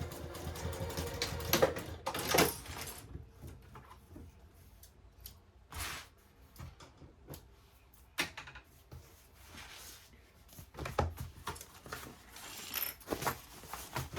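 A sewing machine makes short back stitches on a tote bag in brief whirring bursts, mixed with clicks, snips and fabric handling, quiet and close with no voices.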